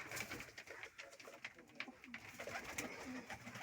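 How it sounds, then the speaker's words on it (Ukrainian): Faint, soft pigeon cooing comes through steady background noise at a distance. "Це ще скубаївський голубок я Віталіку давав."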